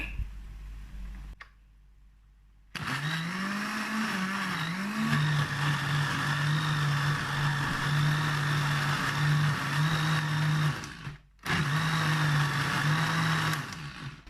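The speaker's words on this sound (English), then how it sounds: "So I'm going to blend the onion now." An electric blender purees a single onion for jollof rice. Its motor whines loudly and steadily for about eight seconds, cuts out briefly, then starts again and runs on. No one talks over it.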